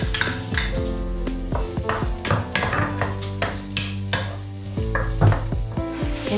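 Garlic fries in oil in a pan, giving a loud, close sizzle while a utensil stirs and scrapes with repeated metallic clinks and taps against the pan, with no voices.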